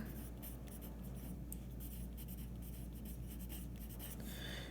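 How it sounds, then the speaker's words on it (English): Marker strokes squeak and scratch across a board during a physics lecture on collisions, steady, close-up writing sounds in a continuous run of short strokes over a low room hum. "I can go ahead and write kinetic energy out"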